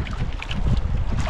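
Wind buffeting a small fishing boat at sea, a steady close rush of gusts and microphone rumble with faint water splashes throughout.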